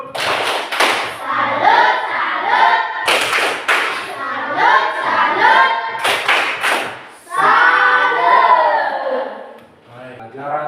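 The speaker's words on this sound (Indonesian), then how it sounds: "karena hadir semua, kita beri tepuk salut." Schoolchildren in a classroom perform a rhythmic 'tepuk salut' clapping cheer, chanting together in loud bursts punctuated by sharp claps and thumps, with a short pause before the final chanted phrase.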